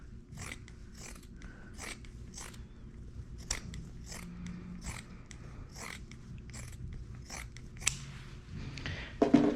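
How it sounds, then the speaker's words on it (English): Scissors snip off the edges of fabric for a homemade dog bandana, with about a dozen crisp, evenly spaced cuts close by over a low steady room hum, then a louder rustle at the end. "it's just easier to come in here and just cut these two edges off"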